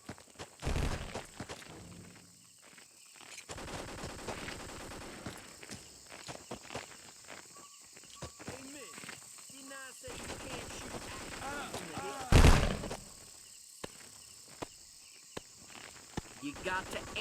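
Sounds from the Vietnam War game Vietcong, with footsteps, scattered sharp shots and one loud blast over an ambient jungle bed, with voices talking at times.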